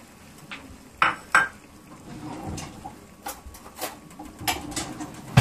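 Chili peppers dropped into a pot of boiling water and stirred, with a couple of sharp clinks early on, then bubbling, clattering and scraping of the pot at close range.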